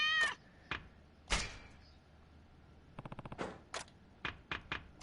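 A cat meows in the video game Ishin, a short mewing call followed by bursts of quick sharp clicks and thuds spread across a mostly quiet stretch.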